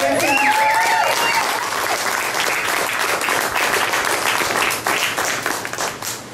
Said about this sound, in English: let's have a big round of applause for Jeff and Danielle.